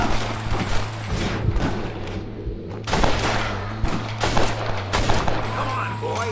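Heavy gunfire in Red Dead Redemption during a support-fire shootout, with repeated loud shots and bursts over several seconds above a steady background hum.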